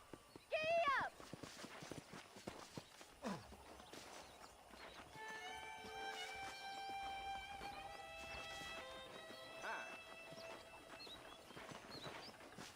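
Horse hooves clip-clop at a riding pace on a ranch in Red Dead Redemption, a steady rhythmic trot under game music, with a brief whinny and character voices near the start.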